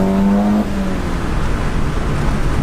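A Stage 2 tuned 2007 Audi S3 manual revs hard. A strong rising engine tone cuts off sharply at a shift and gives way to a rumbling, loud exhaust and road roar close by.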